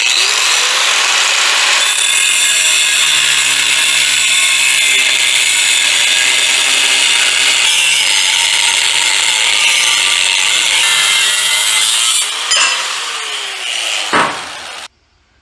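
A power tool cuts through a bar, 1 1/4 inches off the end, with a loud, sustained grinding whine that runs for about twelve seconds before cutting out and winding down.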